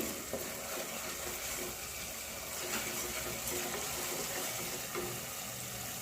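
Steady sizzling of a spice paste frying in hot oil until the oil separates, with occasional scrapes of a spoon stirring it, close by and continuous throughout.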